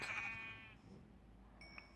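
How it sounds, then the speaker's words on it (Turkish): A sheep in Minecraft Pocket Edition survival mode gives one clear, near bleat at the start, then fades into quiet game ambience with a faint high tone near the end. "Neredesin koyuncuk? Gel buraya."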